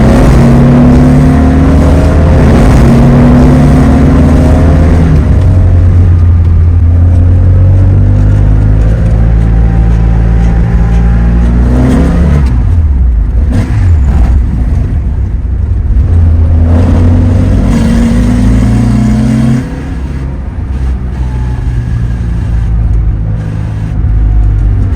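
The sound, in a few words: Porsche flat-four engine car accelerating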